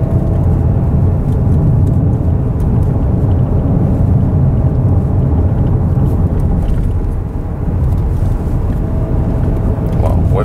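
A 2018 Porsche Cayenne V6 SUV drives through corners, a loud steady engine drone and road rumble filling the cabin continuously, with slight rises and dips in pace.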